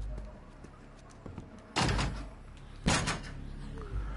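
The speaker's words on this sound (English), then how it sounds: "let's open this door" In The Walking Dead Onslaught game, a door is worked open with two loud, scraping heavy thuds about a second apart, over a quiet ambient background with faint ticks.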